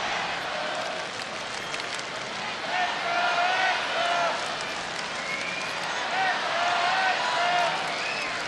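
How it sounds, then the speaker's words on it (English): A stadium crowd at an Astros–Angels baseball game keeps up a loud, steady cheer with rhythmic chanting swells, the roar filling the whole stretch while a voice talks over it. "It is a loud "Let's Go Astros" cheer going on."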